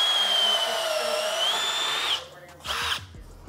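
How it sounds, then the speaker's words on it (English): A power drill fitted with a step bit whines loudly and close up as it bites through material, then stops briefly and gives one shorter burst. "We're going to drill those"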